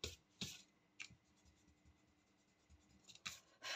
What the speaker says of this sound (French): Donc là, on va gommer tout ça.